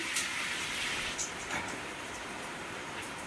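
Heavy rain pours down in Guntur, Andhra Pradesh, a steady hiss and dense wash of noise with occasional louder spatters, continuous throughout.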